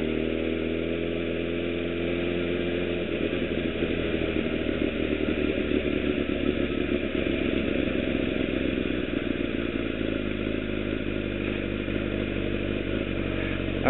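A motorcycle engine hums steadily while the bike is ridden through a turn, a constant close drone that shifts slightly in pitch partway through, with no talk.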